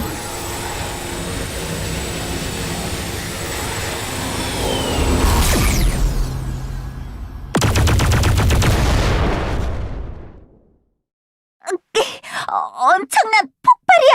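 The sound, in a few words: huge explosion in the Elsword video game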